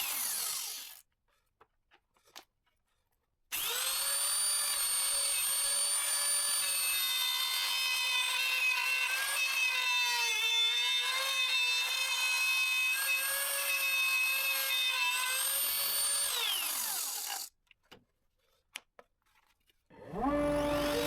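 A router bit mills through a wooden piece held on a scrap backer, a loud sustained high-pitched whine running about fourteen seconds with a rising spin-up and falling spin-down, bracketed by quiet handling noises.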